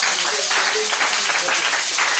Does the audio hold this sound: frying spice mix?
no